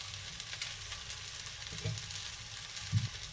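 Fried egg bhujia hitting a pan of vegetable pasta, giving a steady soft sizzle with a couple of light stirring knocks, fairly quiet and close.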